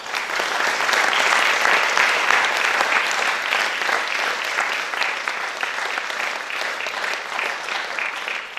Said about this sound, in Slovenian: En aplavz za njih.